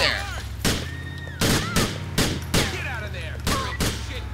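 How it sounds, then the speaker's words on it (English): Repeated bursts of gunfire from police officers in the LCPDFR mod for GTA IV, about six loud volleys at irregular intervals over a low engine-like hum, with quiet game sounds between shots. "the other cops are shooting"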